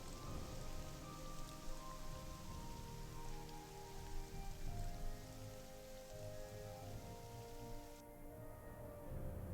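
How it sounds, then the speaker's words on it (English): Rain pours steadily in the video game Morrowind, a dense hiss of drops on surfaces with faint low rumbles, the patter thinning out near the end as the shower eases. "The rain is going away."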